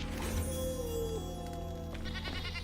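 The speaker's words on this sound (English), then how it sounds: "There's a goat." A goat in the game Enshrouded gives a clear, wavering bleat of a couple of seconds, fairly close against a quiet, steady background tone, followed by a shorter bleat at the end.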